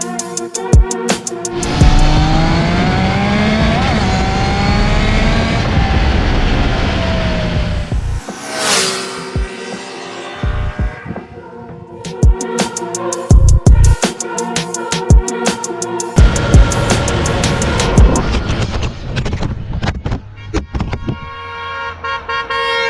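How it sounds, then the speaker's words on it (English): A Triumph Daytona 660 sport motorcycle rides past: a loud engine note rising and falling through gear changes, with a sharp high whine in the middle and choppy bursts of wind and engine roar after it, with no talk. "This is the Triumph Daytona 660"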